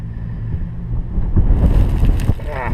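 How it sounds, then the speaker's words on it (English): Outdoor wind rushing and buffeting the microphone during work on a 1994 Ford Ranger 4WD drive shaft, a loud steady roar that swells in the second half, with no talk. "the wind's blowing"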